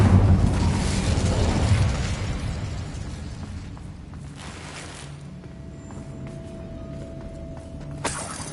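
A fire spell cast in the Hogwarts Legacy video game, heard as a loud whooshing burst that fades into a lower rumble, with a short tone and a sharp pop near the end.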